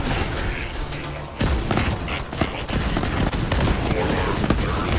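Gunfire in Borderlands 3, a busy stretch of repeated shots and thumping impacts under steady battle noise, fairly loud and continuous with occasional sharper cracks.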